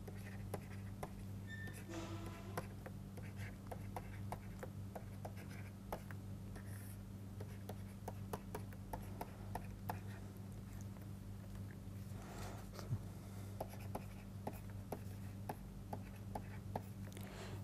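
An equation is handwritten during a materials science lecture on dislocations, heard as a faint, continuous scratch of pen or chalk strokes with small taps over a steady low room hum.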